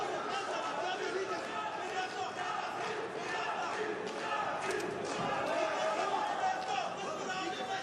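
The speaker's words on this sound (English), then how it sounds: "You can hear the crowd cheering, I think, for Georgiy, right?" Fight crowd noise throughout: a dense, steady roar of cheering and chatter from many spectators, with scattered shouts rising above it and no quiet gaps.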